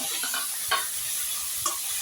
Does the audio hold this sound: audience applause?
no